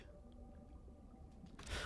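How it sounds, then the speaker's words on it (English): Whale-like creature calls in the undersea video game Subnautica Below Zero: faint, low, drawn-out moans under a murky watery ambience, ending in a brief louder swell of noise. "What are those sounds? It's like a whale."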